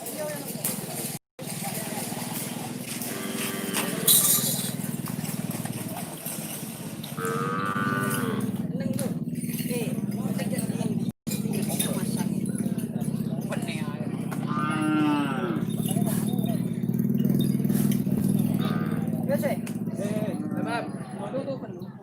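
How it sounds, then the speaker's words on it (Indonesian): Cows mooing on a farm field: several long, drawn-out moos rise and fall across the stretch, fairly close, over steady background rumble, with people talking intermittently throughout. "Syuting sapi ae."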